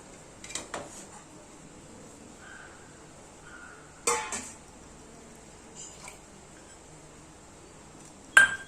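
Chillies, ginger, garlic, cumin and coconut dropped into a mixer jar: a few sparse, close clinks and knocks against the jar, spaced apart with quiet between them and a sharper clatter at the end.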